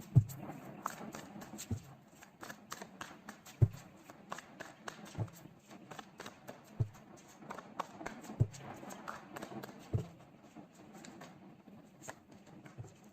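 Tarot cards are shuffled and pulled, giving quiet, close papery riffles and soft sharp taps at irregular intervals, with occasional speech in the background.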